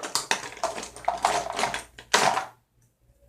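Makeup brushes being rummaged through by hand, a busy run of light clattering, clicking and rustling taps in uneven bursts, close and fairly loud, then stopping abruptly into near silence.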